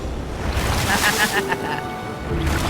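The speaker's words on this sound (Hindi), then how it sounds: "ओके, ये आई बड़ी लहर।" A big ocean wave rolls in toward a rocky shore near an island, a loud, sustained surging wash with wind noise and a voice faintly underneath.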